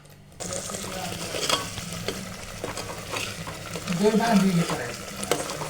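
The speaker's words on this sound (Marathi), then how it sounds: "तेल सुटेपर्यंत आपण मसाला भाजून घेणार आहे" Ground masala for a crab curry is roasted in oil in a pan. A steady soft sizzle sits under repeated spatula scrapes and stirring knocks close by.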